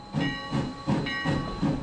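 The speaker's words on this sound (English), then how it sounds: "Going through the countryside like this, with the steam, with the bell ringing." A steam train rolls through the countryside, its bell ringing, with rhythmic chuffing bursts about every third of a second under a steady hiss of steam and sustained ringing tones.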